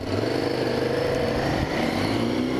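Motorcycles out on the road, one of them a Ducati Monster, give a steady close engine drone with a low rumble that holds unbroken for a couple of seconds.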